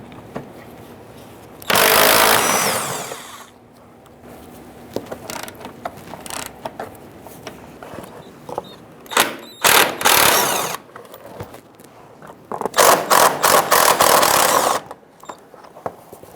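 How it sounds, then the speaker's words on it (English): A socket wrench with a 10mm socket removes four bolts from the front suspension of a 2010-2013 Kia Soul, with several bursts of rapid ratcheting clicks between quieter handling of metal parts, close up. "I'm going to take out these 4 bolts with a 10mm socket"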